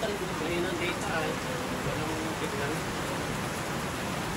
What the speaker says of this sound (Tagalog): Saktong ulan.